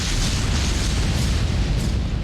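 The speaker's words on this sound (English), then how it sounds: "Look at that explosion. That was a pretty one." A destroyed ship blowing up in the space game Starbase, a loud, dense explosive roar with deep rumble that stays at full volume without a break.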